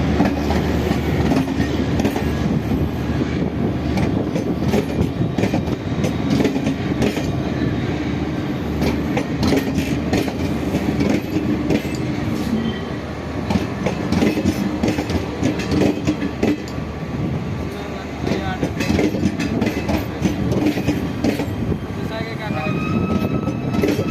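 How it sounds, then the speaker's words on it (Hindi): A train runs past on Indian railway tracks near Ghaziabad, its wheels clattering rhythmically with a continuous rumble and rattling clicks for over twenty seconds, fairly close and loud, with faint voices now and then. "ट्रेन चली गई"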